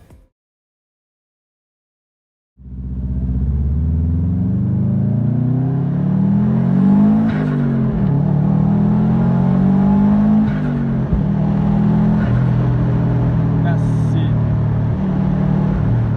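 A Honda Brio car starts up after a short silence and accelerates hard, its engine droning close and loud as revs rise and fall through gear changes, with no talk.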